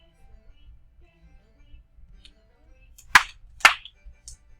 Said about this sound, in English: Clap them again.